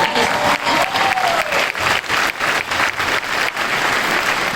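Audience at an Ohio State University campus event breaks into loud, sustained applause, dense rapid clapping from a large crowd filling the hall, with a faint voice underneath.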